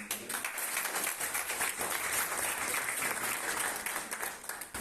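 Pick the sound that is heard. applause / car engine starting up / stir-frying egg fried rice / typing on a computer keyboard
applause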